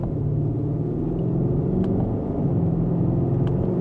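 A 2025 Alpina XB7 SUV accelerates in second gear in sport mode, producing a smooth, steady low engine rumble with a muted, refined tone. It heard from inside the cabin, not too loud, with no talk.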